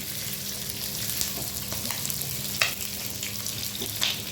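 Garlic and onion sizzling steadily in a hot pan for a vegetable stir-fry, a loud continuous crackle broken by a few sharp spatula scrapes, close and without voices.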